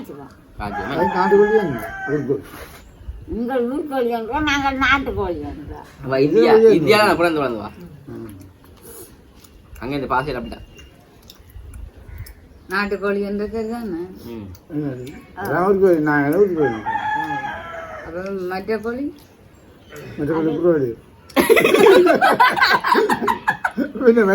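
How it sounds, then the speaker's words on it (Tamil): Royal chicken roosters crow repeatedly, their long wavering calls mixed with clucking while people talk nearby throughout. "ரோயல் கோழி அது ரோயல் கோழி"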